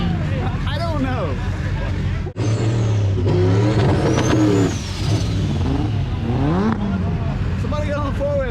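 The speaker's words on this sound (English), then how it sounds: "come to the parking lot and do more burnouts" A Corvette drift car does burnouts in a parking lot, its engine revving and wailing up and down in rising and falling sweeps, loud and continuous, with a crowd chattering and shouting throughout.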